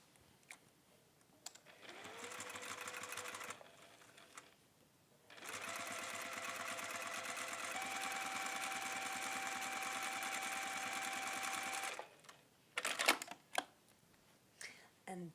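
A sewing machine top stitches along the folded edges of a fabric binding strip, running in short bursts and then a long steady whir, with clicks and handling noises between runs.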